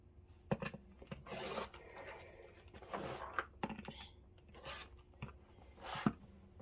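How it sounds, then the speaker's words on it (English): Fabric pieces for a Kimberbell Cuties April table topper being trimmed square, giving soft intermittent cutting and rubbing sounds in short bursts, fairly quiet and close, with no talking. "So here I'm gonna just trim them, square them off."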